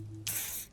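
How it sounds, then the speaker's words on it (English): A spray canister in the Disco Elysium video game lets out one short hissing burst that stops abruptly, preceded by a faint low hum. "He douses you with the odd-smelling spray, a double helping as you present your other armpit"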